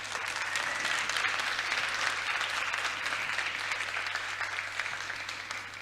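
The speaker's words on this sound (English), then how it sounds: "So I want to ask you to give a round of applause for the tech team" A large audience at a climate change summit in the Teatro Odeon claps for the tech team, thick sustained applause that holds steady and slowly tapers, with a faint low hum underneath and no talking.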